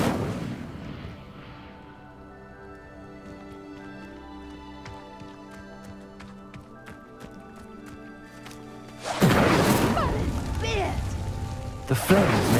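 The Incendio fire spell goes off in Hogwarts Legacy, a sudden loud burst of roaring, crackling flame that bursts in near the end after a quieter musical stretch with spell chimes.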